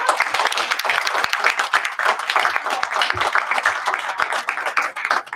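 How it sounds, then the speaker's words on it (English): A youth poetry event audience in Bendigo applauds steadily, with dense, continuous clapping filling the whole stretch and no voices standing out. "So I just want to give a really big round of applause to all of these young people who've worked really hard to put this on together."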